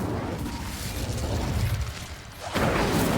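An Incendio fire spell cast in a Harry Potter video game, a low rumbling whoosh of flame that swells, dips, then flares again with a brighter burst near the end.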